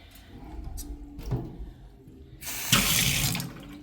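Water runs from a tap into a sink in a new florist studio, a short gush starting partway through after quieter handling sounds, close and fairly loud, with no talking.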